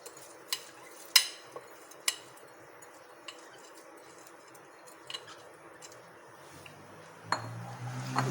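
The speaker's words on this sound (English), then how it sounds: "And stir it." A spoon stirs rice through a pot of boiling water for vegetable pulao, giving sparse metallic clinks and taps against the pot, with a louder bubbling rush near the end.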